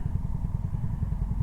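A Chevy Nova's engine rumbles past nearby with a low, pulsing throb, brief and fairly steady, with no talking.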